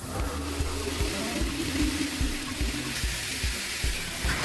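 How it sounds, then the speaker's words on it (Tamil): Water pours into a bucket being filled about halfway, a steady rushing splash with low thumping pulses underneath. It is moderately loud and nearby, and no one speaks. "இப்போ வாளியில் பாதி அளவுக்கு தண்ணி நிரப்பிக்கலாம்."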